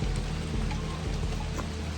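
Steady rain falls on a homestead during a storm, a dense, constant patter on surfaces with a low rumbling undertone, loud and close throughout.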